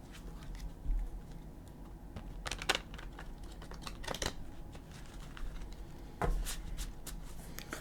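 Soft, close riffling and tapping of tarot cards being shuffled, with a few sharper snaps at irregular intervals, quiet and without voices.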